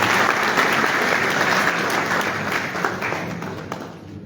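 Loud, dense applause from a conference audience at a meeting of West African central bank governors in Liberia, a continuous roar of many hands clapping that holds steady and eases slightly toward the end, with no talk over it.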